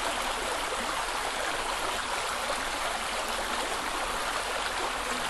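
A brook flows steadily close to a campsite, a dense, even rush of water that continues unbroken and alone, with no voices.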